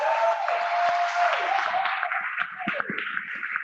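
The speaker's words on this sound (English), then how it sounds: "Big round of applause" A round of applause from the crowd at an evening networking event, moderately loud clapping that thins out toward the end, mixed with a little crowd murmur.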